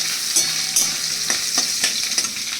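Chopped coconut frying in oil with panch phoron and dry chilli, stirred with a spatula: a bright steady sizzle broken by repeated scraping clicks against the pan.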